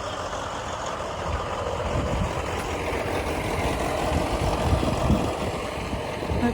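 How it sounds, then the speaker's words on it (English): A tractor engine runs steadily outdoors on a field-tillage day, a continuous low, rough diesel-like drone with a gentle rise and fall in level and no voices over it. "Tractor is ready to go."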